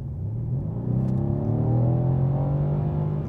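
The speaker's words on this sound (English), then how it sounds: "Once you accelerate, it gets really loud. It is a loud car." Exhaust of a 2015 Mercedes-AMG C63S (W205) accelerating in Sport Plus mode: a loud, steady engine drone that rises in pitch as the revs climb, close up, with no talking.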